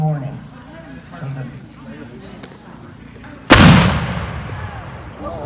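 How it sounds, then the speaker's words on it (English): A single reenactment artillery cannon at a Battle of Camden reenactment fires one loud, booming blast that rolls out and decays over a couple of seconds, following a stretch of quiet crowd murmur and talk. "Remember, this artillery is firing at the dawn of the morning."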